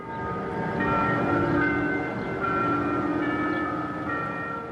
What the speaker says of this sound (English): Bells from Sacred Heart Catholic Church rang out